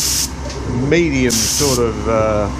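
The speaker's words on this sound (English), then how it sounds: "This first spray is an insulating dye coat." Insulating die coat sprayed onto a mould for gravity die casting a lens blank, heard as two loud, close hissing bursts of spray alternating with someone talking over them.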